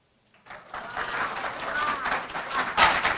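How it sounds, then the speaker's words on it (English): An audience at a Black History Month African American Read-In claps after a poem, the applause rising from silence into steady, close clapping with voices and whoops mixed in. "we gotta give her another hand clap for that"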